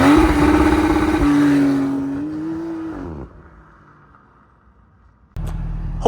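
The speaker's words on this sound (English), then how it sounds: "That is how to do launch control in your Porsche 911, Boxster, Cayman," Porsche engine under launch control, held loud at high revs before winding down to near quiet, then bursting back to a sudden, strong roar near the end.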